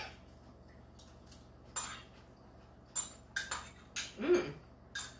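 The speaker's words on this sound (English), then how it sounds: "I'm going to eat my salad with a spoon" Metal spoon clinking and scraping against a bowl of Southwestern chopped salad, a handful of separate light taps and scrapes spaced over a few seconds, fairly quiet and close, without talk.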